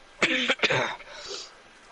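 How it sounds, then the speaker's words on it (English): Someone clears their throat with two quick, harsh rasping bursts close to the mic, followed by a softer breathy trailing sound. "I gotta clear my throat for this one"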